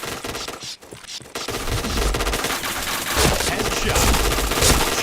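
Rapid automatic gunfire rattles through a first-person shooter game, with dense bursts of shots and impact sounds growing louder over the last few seconds and a voice talking over the action.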